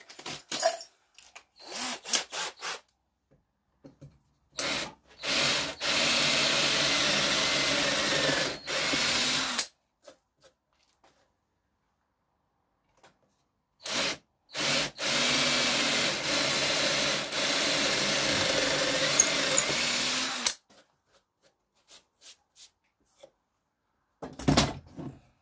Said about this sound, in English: let's get to drilling some holes